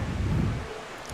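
Gusty wind buffeting the microphone at a windsurfing competition in Fuerteventura, a brief rough roar that eases after a moment.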